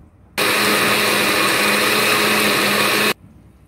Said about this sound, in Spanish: y licuamos.